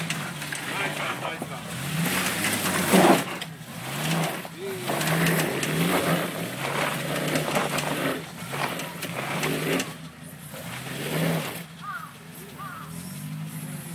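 Remote-control Quadropet crawler climbing at an outdoor meet, its motor whirring and straining in uneven bursts as the tires slip, with people chatting and cheering over it throughout.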